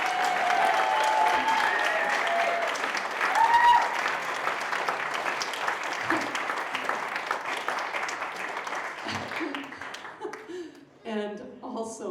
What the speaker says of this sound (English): can you please give such a soulful, warm, genuine round of applause to Mr.